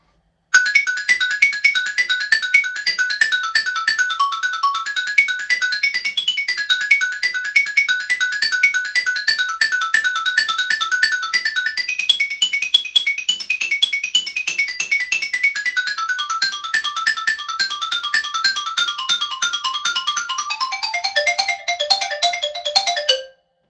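A xylophone plays an excerpt from the overture to Gershwin's Porgy and Bess, a fast, bright run of rapid mallet strikes that moves up and down in pitch for over twenty seconds, played up close and loud with no talking.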